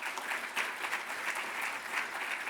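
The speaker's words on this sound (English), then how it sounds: "And how about a round of applause for Ed Hurst?" Steady applause from a seated audience at a broadcasting hall of fame awards ceremony, even and sustained without any voices over it.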